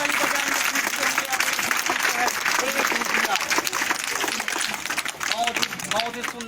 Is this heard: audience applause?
yes